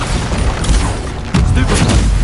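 Booming spell blast from the Bombarda explosion in Hogwarts Legacy, a dense continuous rumble of combat impacts with a heavier burst partway through, loud throughout amid game battle noise.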